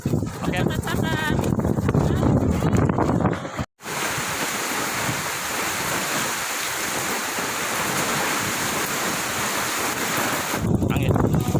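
Strong wind roars across a seaside culinary stall area where stalls have been blown down, a steady loud rush of wind noise buffeting the microphone, with people talking over it at the start and end.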